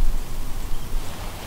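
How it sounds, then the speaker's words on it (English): Steady rain falls outdoors on a windy, cold hunting day, a dense even hiss of drops close by with no voices. "It's already starting back raining again."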